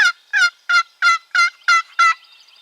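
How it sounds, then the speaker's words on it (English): A wild turkey gobbles in a rapid series of seven loud, clear, evenly spaced rattling calls, on a spring hunt in open fields and woods, with no talking. "he's gobbling on his own now."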